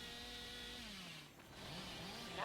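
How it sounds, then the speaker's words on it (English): Chainsaw revving in the Dead by Daylight game, a steady buzzing engine whose pitch dips and rises again as it is throttled, heard alone and fairly quiet. "Wispy revving that chainsaw here"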